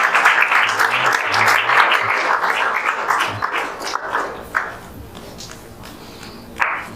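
Audience applause at a gathering marking JEE Main 2024 results, a dense, steady clatter of many hands that is loudest early and gradually thins and fades toward the end, with scattered louder claps.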